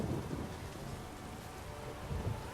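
Rolling thunder rumbles under steady rainfall in the video game The Witcher 3: Blood and Wine, a dense continuous wash with low swells near the start and end.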